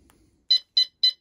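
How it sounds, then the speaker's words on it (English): A Phantom alarm system gives three short, evenly spaced high electronic beeps on being disarmed, close and clear against silence. "that's three beeps. I've disarmed the system."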